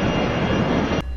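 An airplane on a runway taking off, a loud, steady broadband engine roar that cuts off abruptly after about a second.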